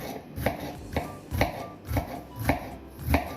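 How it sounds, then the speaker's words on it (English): Knife slicing through bitter melon on a cutting board in a kitchen, six crisp evenly spaced chops at a relaxed pace, close and clear with no talking. "So basically what you're gonna do is slice them like this,"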